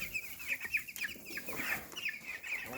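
Baby chicks cheep in a steady run of high, bright chirps, close by, with soft shuffling in a brooder bedded with shavings and no talk.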